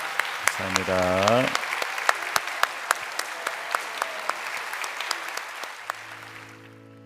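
A church congregation claps for the children during a Sunday service, sustained applause after a prayer of blessing, with a brief spoken thank-you near the start and the clapping fading toward the end.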